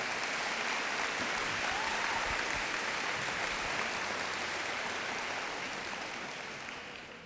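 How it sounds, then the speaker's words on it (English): A large school audience applauds on opening day, sustained dense clapping filling the whole stretch and tapering slightly toward the end. "Give yourselves a round of applause."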